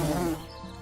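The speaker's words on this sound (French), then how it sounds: "Ah, les méga groupes de guêpes." A swarm of wasps from the video game Lords of Xulima gives a loud, dense buzz that fades sharply after about a third of a second.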